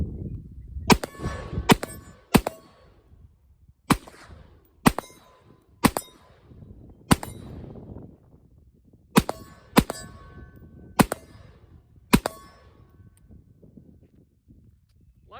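Shots from an AR pistol ring off steel targets at around 40 to 50 yards, eleven sharp metallic clangs spaced irregularly about a second apart, each with a short ringing decay and no talk between them.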